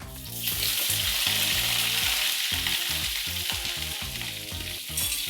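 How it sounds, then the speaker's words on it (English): Cauliflower sizzling in hot coconut oil for a Karwari vegetable dish, a loud continuous hiss overlaid by strong rhythmic tonal music, with no voices. "So first, the coconut oil is nice and hot. आता घाल ह्याच्यात तुझी फ्लावर"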